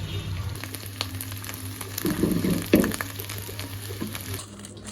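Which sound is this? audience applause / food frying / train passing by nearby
food frying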